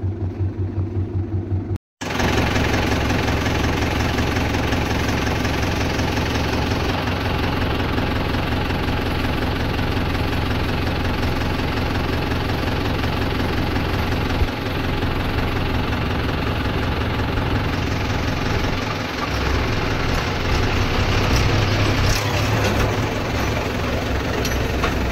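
A Mahindra 275 tractor plowing a field, its engine droning steadily and loudly with a low, even rumble that hardly changes across the whole stretch, after a brief gap near the start.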